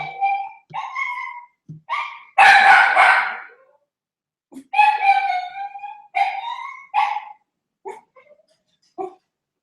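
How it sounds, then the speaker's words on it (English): A dog barks repeatedly in loud, close, irregular bursts, some drawn out into howl-like yelps, with short pauses between them and no talking. "that's my roommate's dog, Rizzo."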